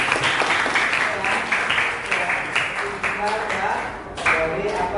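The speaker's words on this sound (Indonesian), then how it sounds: "Tepuk tangan." A classroom audience breaks into applause, brisk clapping with scattered individual claps that carries on steadily for several seconds, with a little background voice.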